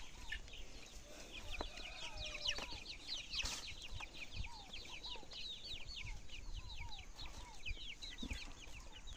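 Chickens cluck in a backyard flock being fed, with repeated short calls and scattered chirps from several birds throughout, fairly steady and moderately close against a light outdoor background.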